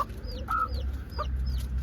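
A hen clucking softly beside week-old chicks in a garden, with short close clucks mixed with high thin chick peeps over a low steady background rumble.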